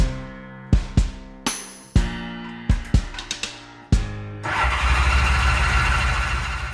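Old vehicle left sitting for about 20 years, its starter cranking on a fresh battery: several short, loud whirring bursts in a row, then a sustained rough running roar, with no talking.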